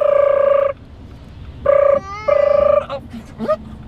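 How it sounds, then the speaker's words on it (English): An electronic phone ringtone trills in two bursts with a short pause between, followed by brief faint chirpy sounds. "Oh, your phone's ringing again."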